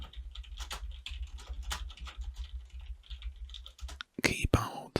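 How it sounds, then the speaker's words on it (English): Soft, rapid typing on a computer keyboard sounds close and quiet, with steady irregular key clicks, faint whispering and a low hum, ending in a few louder handling noises. "keyboard sounds, then maybe this is the video for you."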